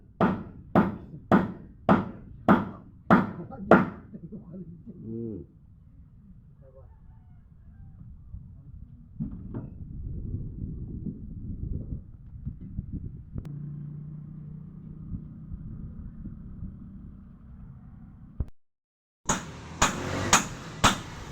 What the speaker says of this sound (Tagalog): Ganyan lang magpako, mag ano ng martilyo, hawak sa dulo.